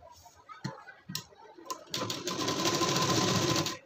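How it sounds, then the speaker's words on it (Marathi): A sewing machine stitches along the lower edge of a padded blouse. A few short, soft taps come first, then about two seconds of steady, close, rapid stitching. "आपण दरवेळेसारखी या ठिकाणी शिलाई मारून घेऊ"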